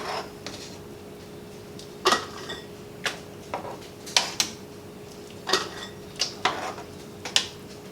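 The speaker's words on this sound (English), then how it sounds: "I'm going to use a slotted spoon to put my beans in my jars." Slotted spoon clinking against glass jars while scooping cooked Louisiana Cajun-style red beans for pressure canning, a series of sharp, irregular metallic-glass taps and clicks spaced about a second apart over a faint steady background hum.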